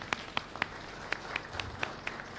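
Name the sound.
round of applause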